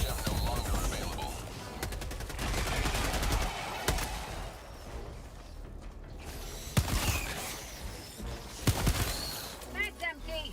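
Gunfire in the video game Helldivers: dense bursts of automatic shots and sharp single cracks with mechanical clatter, loud and close, while someone talks over much of it.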